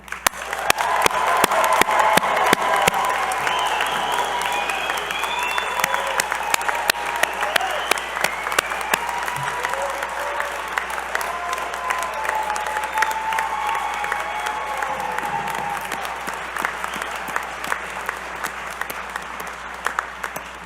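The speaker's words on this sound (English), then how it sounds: "I invite those in attendance to join me in applauding your success" A commencement audience gives graduates a long, loud round of applause that swells in the first seconds and then holds steady, dense clapping filling the hall for the full stretch.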